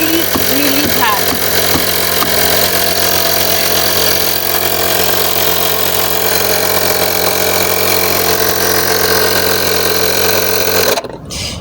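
A 12V electric air compressor pumps up a car tire, giving off a loud, steady motor drone with a constant buzzing hum that runs without a break for about eleven seconds and then cuts off abruptly near the end.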